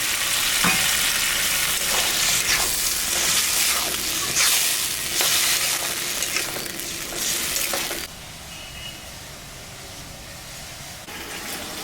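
A spoonful of water splashes into a pan of frying ginger, cumin and green and dried chilli paste, raising a loud sizzle with stirring scrapes that drops abruptly to a quieter bubbling simmer.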